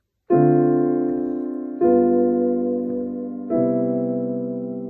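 Three sustained jazz piano chords with a flattened ninth, giving a tense, dissonant color, each struck and left to ring and decay, played alone without talking.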